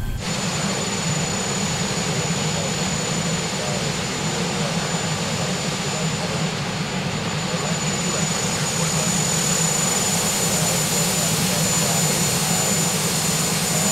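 Shorts 330/360 turboprop engines idling on the ground in Microsoft Flight Simulator, a constant droning whine and low hum held at an even level for the whole stretch, with no voices heard.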